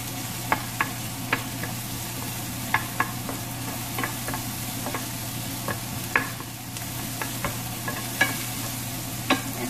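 Chopped red onions sizzling in a pan, a steady soft frying hiss under repeated light clicks and scrapes of a spoon stirring, close and fairly quiet, no talk.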